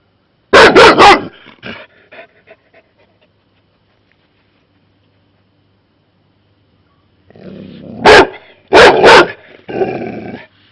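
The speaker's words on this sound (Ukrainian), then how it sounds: "Не гавкай на нього." A Labrador barks sharply a few times close up at a hedgehog, falls quiet for several seconds, then barks again in a quick burst followed by softer huffing.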